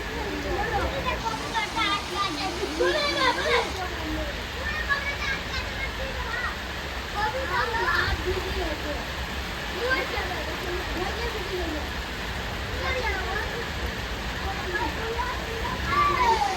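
Heavy village rain pours down in wind over soaked trees and a pond, a loud, unbroken wash of water with faint voices now and then beneath it.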